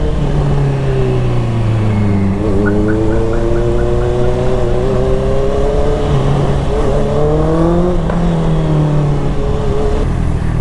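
A motorbike engine runs steadily up close, its pitch rising and falling as the rider shifts and accelerates, with continuous wind and road noise.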